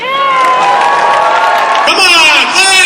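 A convention crowd at an anime-con opening ceremony cheers, whoops and claps loudly throughout, dense and close, with excited shouting voices layered on top.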